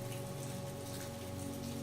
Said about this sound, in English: The sound of rain tapping against the windows